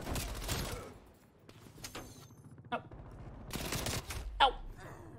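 M4 rifle gunfire in the shooter game Black Ops Cold War: bursts of rapid shots at the start and again near the end, with quieter mechanical clicks and creaks between them.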